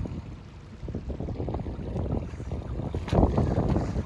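A Ford Escape with its muffler gone revs on half-inch-thick ice during a burnout, a loud, rough, continuous roar that swells near the end.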